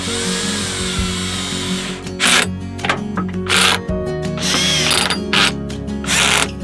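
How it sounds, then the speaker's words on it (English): Screws being driven tight on a vacuum pump with a power driver, several short whirring bursts separated by clicks and handling, close and loud with no talk. "that's when I will start to screw it down tight and make sure that it's not going to fall off"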